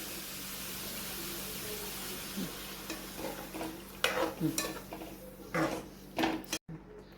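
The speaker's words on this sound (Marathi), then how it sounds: "आता ह्याच्यामध्ये आपण गरम दूध ॲड करणार आहोत" Pumpkin frying in a pan for halwa as hot milk is added, a steady hiss of frying under several louder scraping stirs and splashes, ending with a brief gap.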